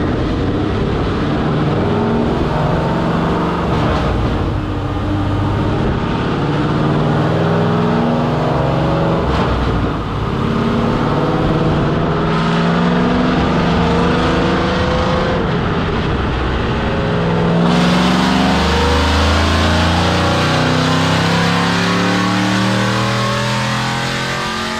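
Chevrolet Camaro Z28 engine on a dyno, held at loud sustained revs with rising and falling pitch through a full pass, close and continuous with no talk.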